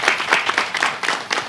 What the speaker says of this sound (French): merci d'applaudir pour